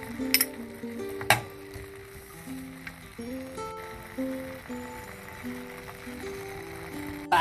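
Tomato paste frying in olive oil in a pan gives a low, steady sizzle under intermittent metal clinks and scrapes of a utensil stirring against the pan.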